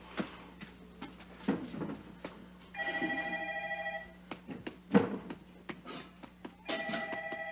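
A telephone rings in two clear, sustained trills separated by a pause, heard indoors amid scattered thumps and faint room noise, with no voices during the rings.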